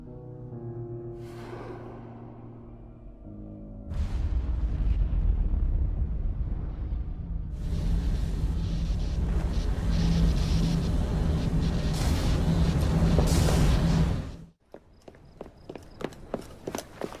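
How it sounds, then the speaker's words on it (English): An explosion erupts in an Assassin's Creed Syndicate video game cutscene, a loud, sustained roaring rumble lasting about ten seconds before cutting off into quieter footsteps. "What was that explosion?"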